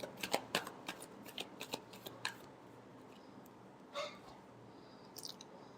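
Tarot cards are shuffled by hand in quick, crisp riffles and taps, a burst of close papery clicks followed by a pause and a few softer rustles.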